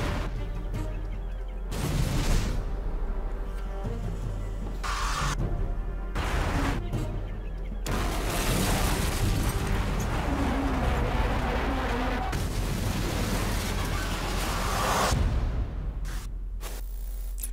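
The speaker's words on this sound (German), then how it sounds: "Feuer, Explosion, Schiff fällt in Wasser, alles krach, bum, bang." An explosion and a ship crashing down into water in the racing game Split/Second: Velocity, heard as long roaring bursts of broadband rumble and noise with brief gaps between them.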